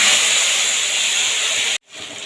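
Ground radhuni, cumin and ginger paste dropped into hot oil for a Bengali eggplant curry, a loud bright sizzle that hisses steadily then cuts off abruptly near the end before a softer sizzle returns.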